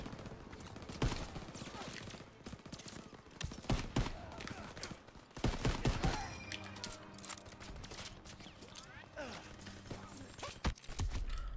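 In the Call of Duty WWII D-Day campaign, a machine gun in a hayloft fires bursts among other gunfire and battle noise, loud and chaotic, with a voice talking over it.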